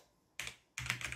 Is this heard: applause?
no